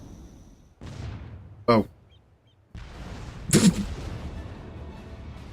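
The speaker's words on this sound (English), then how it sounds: "Missile." Missile blast in Final Fantasy XIV: two sharp, loud booms a couple of seconds apart, each trailing into a rumbling wash, with a person's brief voice between them.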